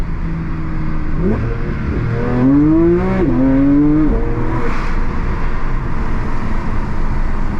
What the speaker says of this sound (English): So people, now look how the RPMs in this car make it come alive.